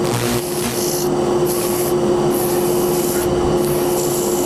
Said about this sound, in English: Then I'll get some fresh sandpaper and I'll start on the outside